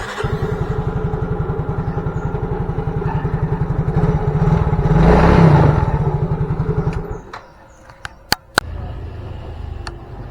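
A Yamaha Mio J fuel-injected scooter engine runs loud and close with a steady rapid putter that swells, then cuts off abruptly, followed by a few sharp clicks and a quieter engine note returning.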